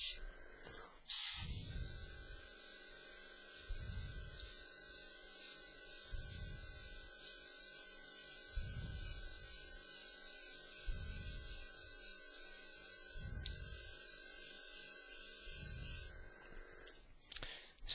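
An airbrush fogs a light grey paint over a skull artwork in a long, steady near hiss that runs almost unbroken, with soft low thumps recurring about every two seconds underneath.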